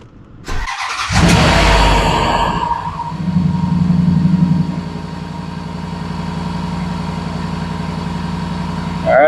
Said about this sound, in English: All right, engine running.